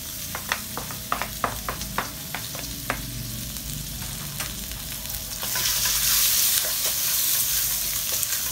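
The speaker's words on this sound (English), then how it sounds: "Now we'll start putting the bacon." Bacon strips dropped into hot oil for carbonara, each landing with a sharp pop and crackle before a loud, steady sizzle swells and hisses continuously up close.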